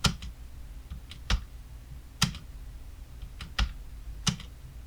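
Computer keyboard keys, the Home key then the spacebar among them, are pressed in a handful of isolated sharp clicks spaced about a second apart over a quiet room background, close and clear with no speech.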